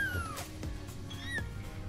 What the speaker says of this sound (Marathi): 3 मांजरे आहेत आमच्याकडे, 3 आत्ता.